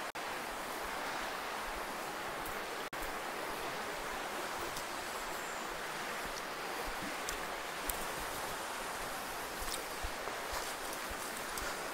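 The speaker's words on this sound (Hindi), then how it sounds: "देखें कितना वेग से पानी चल रहा है" The fast-flowing Mandakini river rushes past its bank, a dense, steady roar of water that holds loud and unbroken, with only a few faint clicks.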